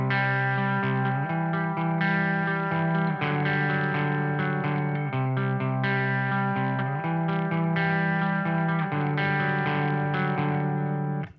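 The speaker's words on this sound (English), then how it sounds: "So we can strum those together." An electric guitar strums chords in an open G voicing with clashing ringing strings, heavily driven with distortion and chorus-like effects. The strummed chords run continuously and loudly for about eleven seconds, with no voice.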